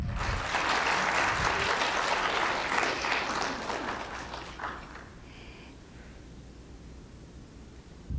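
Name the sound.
audience applause at spelling bee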